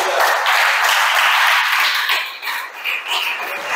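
A church congregation claps together in a dense, steady wash of applause that carries on throughout and dips slightly near the end.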